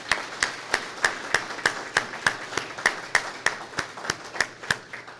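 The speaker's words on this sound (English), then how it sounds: "I think we owe all 20 of our graduates one final round of applause" Clapping for twenty graduates at an early college graduation breakfast: sharp, evenly spaced claps in a steady rhythm, like a small number of people keeping time, fairly close and clear, with no talk over it.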